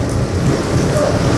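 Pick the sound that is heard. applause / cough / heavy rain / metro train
heavy rain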